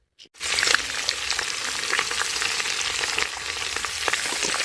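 Pork sizzles and crackles as it fries in its own rendered fat and oil, a steady close hiss with small pops running unbroken after a brief quiet start.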